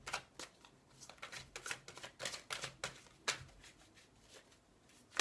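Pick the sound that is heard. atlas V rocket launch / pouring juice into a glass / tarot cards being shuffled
tarot cards being shuffled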